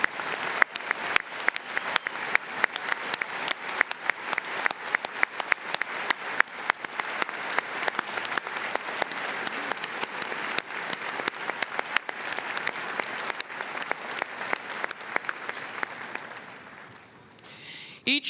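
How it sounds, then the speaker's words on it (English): Graduating class and guests at a Villanova University commencement give faculty members a long, steady round of applause, dense crowd clapping that continues evenly before tapering off near the end. "may we please have a round of applause for all they have done for our graduating class"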